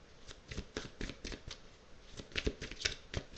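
Oracle cards shuffled and drawn from a deck during a tarot reading, a steady run of crisp papery riffles and slaps close up, with no talking.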